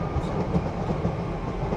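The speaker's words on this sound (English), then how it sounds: "Should we get a shot of the train?" Steady rumbling of a train rolling past in Queensbury, London Borough of Brent, a continuous low roar with faint rhythmic clatter, fairly close and loud.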